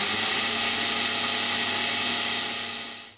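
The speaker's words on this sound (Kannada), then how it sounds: "ಮತ್ತೆ ಅದನ್ನ ಇವಾಗ ಮಿಕ್ಸಿ ಮಾಡ್ಕೊಳ್ತಾ ಇದ್ದೀನಿ" A mixer grinder whirs steadily as it grinds roasted fenugreek, mustard seeds and cumin, a loud continuous motor drone that cuts off at the end.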